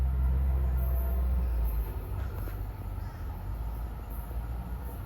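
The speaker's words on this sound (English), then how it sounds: "approaching at 4:30 is Amtrak 171, Boston to Washington" Amtrak 171, a Boston-to-Washington passenger train on the Northeast Corridor, approaches with a heavy low rumble that is loud at first, then eases into a steadier rolling rail noise.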